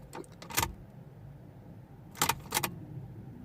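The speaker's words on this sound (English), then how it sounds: "So when I turn the key on" A Vauxhall Astra H 1.6 with a crank no-start fault has its ignition key turned on, giving a few short metallic key jangles and clicks close by, with no fuel pump hum after them.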